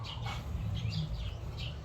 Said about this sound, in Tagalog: May maririnig kayo na boses ng manok, aso na tumatahol